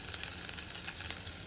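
Garlic sizzles and crackles in hot oil in a pan, a steady close frying hiss with small pops scattered through it and no talking.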